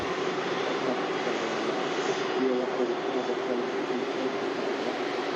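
An Airbus A380 jet airliner departs Manchester Airport, its engines a continuous broad roar that stays steady and loud throughout, with no clear rise or fade.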